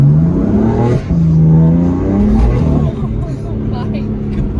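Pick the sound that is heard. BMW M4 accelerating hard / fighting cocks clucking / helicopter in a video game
BMW M4 accelerating hard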